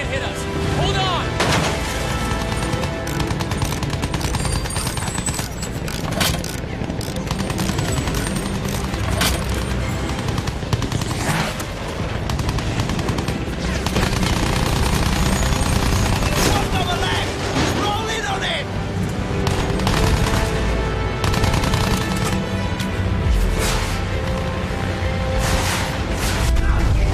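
Bomber gunners in Battlefield 1 fire machine guns in long, dense bursts, loud and continuous, mixed with explosions, engine roar and raised voices throughout.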